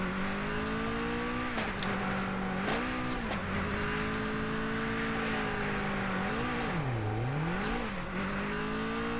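Car engine in Super Street: The Game holds a steady loud drone throughout, its pitch dipping and swelling as the car drifts, with brief sharper bursts along the way and no talking.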